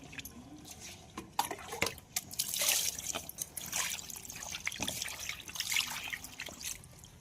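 Water trickles and splashes as small fish are rinsed and rubbed with salt by hand, with irregular drips and pours close by and no speech.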